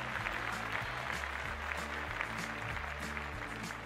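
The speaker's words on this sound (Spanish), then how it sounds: "¡Un fuerte aplauso, por favor!" Applause for a new competitor at a toy car race, a thin, steady patter of clapping heard over a looping low musical backing for a few seconds.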